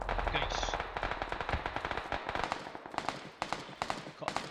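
Rapid submachine-gun fire from a battle royale video game, dense loud bursts of rattling shots following one another almost without pause.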